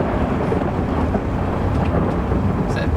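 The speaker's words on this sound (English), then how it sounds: "thunder? It's ominous." Thunder rumbles in Bosnia's Republika Srpska, a deep, loud rolling boom that fills the moment without pause, with a faint hiss like rain underneath.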